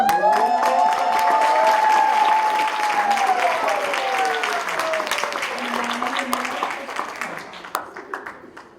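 A speaking-competition audience applauds a contestant, a broad, sustained wash of clapping and crowd noise that slowly fades toward the end, with a voice carrying over the top early on.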